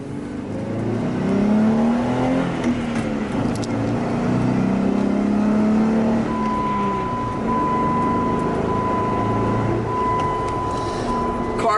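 A 2015 Jeep Wrangler Unlimited Sahara 4WD engine rises in pitch as it accelerates, then settles into a steady drone with a high whine, heard from inside the vehicle.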